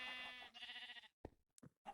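Minecraft sheep bleats in a survival game, a loud, wavering bleat followed by a few shorter, choppier bleating bursts, alone without talk.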